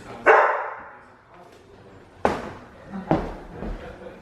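An upset dog barking from inside a house, probably a garage, three loud sharp barks spaced apart, muffled and echoing, with a quieter yip between them.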